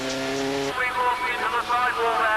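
Ford Fiesta race cars from a 1989 one-make challenge braking hard into a chicane, engines loud and close with pitch dropping and shifting as they slow, a commentator talking over them.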